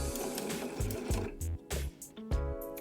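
A sewing machine stitches through layered fabric of a makeup pouch with a zipper, running in short rhythmic bursts that stop and restart several times, close and fairly quiet.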